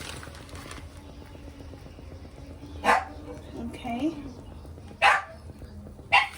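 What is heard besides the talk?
dog barking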